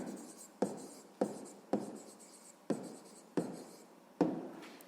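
Pen writing out a sixth-grade maths solution on paper, a series of six close scratchy strokes, each starting with a sharp tap and fading, evenly spaced and quiet.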